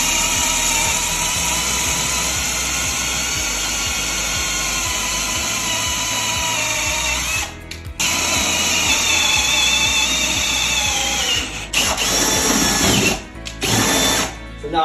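A power drill drives a spade bit at an angle through framing to run ceiling fan wiring, a loud whining buzz running steadily for about seven seconds, then cutting out and restarting in short bursts.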